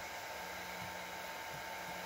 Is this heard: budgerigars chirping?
no